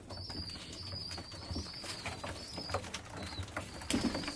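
Pigeons, young 2019 birds at a home loft, coo softly while wings flap and flutter now and then over a steady outdoor hiss. Thin high chirps drift in the background.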